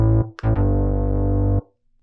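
Deep synthesizer bass preset from an iPad music app, with a brief break and a short higher blip, then one sustained buzzy note that stops abruptly.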